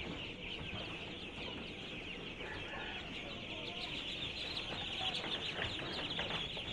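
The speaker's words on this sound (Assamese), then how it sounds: "এইটো আপোনাৰ 5 দিনীয়া পোৱালি।" Five-day-old ducklings on a duck farm peep in a constant, high, chirping chorus that carries steadily throughout, with no voices.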